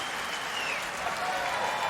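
Applause from the crowd at a US Open tennis match, a dense and steady wash of clapping that fills the whole stretch at even loudness with no voices over it.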